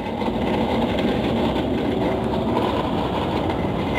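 A semi-trailer truck engine drones steadily while the driver accelerates through a gear change, a loud, continuous mechanical rumble with no voices.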